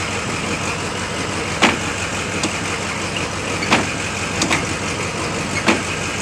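A Ford F-150 pickup engine runs at a steady idle, a continuous mid-pitched hum with a few faint clicks scattered over it and no talk.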